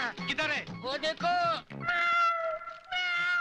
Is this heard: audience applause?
no